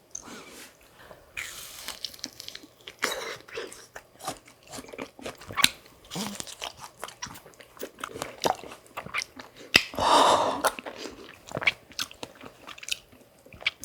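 Frozen fruits such as strawberry and mango with chocolate syrup are bitten and chewed up close, giving crisp, icy crunches and cracks in irregular bursts between quieter chewing, with one loud crackling bite standing out.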